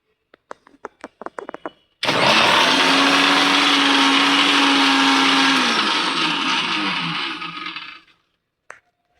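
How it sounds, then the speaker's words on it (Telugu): An electric mixer grinder churns dosa batter of green gram and ragi, running loud and steady for about six seconds with a droning motor hum, then winding down. A few sharp clicks and knocks come before it starts. "మిక్సీ పట్టుకుందాం"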